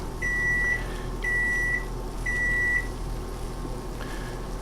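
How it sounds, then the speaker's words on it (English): An electronic timer beeps in three steady, evenly spaced tones, each about half a second long, with a fainter fourth beep, over a low background hum. "And there's my timer for something else."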